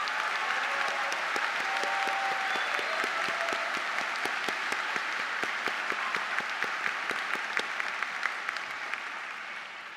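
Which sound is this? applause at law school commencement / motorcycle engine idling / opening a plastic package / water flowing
applause at law school commencement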